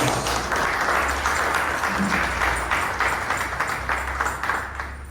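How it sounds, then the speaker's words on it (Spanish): A church congregation claps together in worship, a moderate, steady wash of hand claps with a faint rhythmic pulse and a low hum beneath, fading slightly toward the end. "Démosle un aplauso al Señor."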